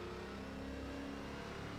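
A lapped race car in the iRacing game drones past with a steady mid-pitched engine hum, fairly faint and continuous, no voices.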